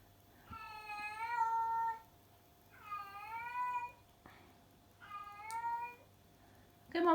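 A Savannah cat in season calls out in three long, loud, wavering yowls, each lasting about a second and a half and separated by short pauses, with a soft click and a brief thump between calls.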